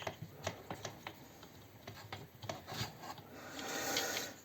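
The plastic housing of a SHIDOKU cordless circular saw is pried open: a close series of sharp clicks and creaks that becomes a rubbing, scraping strain toward the end.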